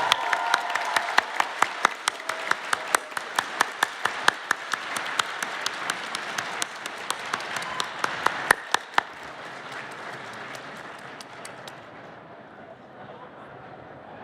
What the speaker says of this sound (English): One more round of applause for our panelists today.